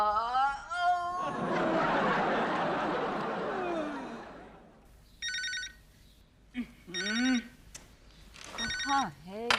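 An old household telephone bell rings in three short, sharp bursts separated by pauses, following a stretch of voices and a loud, noisy rush.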